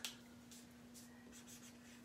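Faint, soft scratchy strokes of writing on a Chalk Couture pumpkin cutout, a few short bursts spread over a couple of seconds above a steady low hum.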